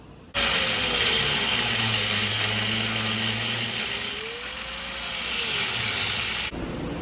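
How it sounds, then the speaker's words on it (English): An angle grinder cuts nubs off a Bay Craft 17'5 skiff boat, a loud continuous whine that starts abruptly, holds steady while the pitch dips and rises under load, then cuts off near the end. "I got the angle grinder out"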